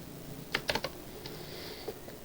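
A few quick keystrokes on a computer keyboard while coding in Python, close but light, with a short cluster of clicks followed by a couple of isolated taps and no talking.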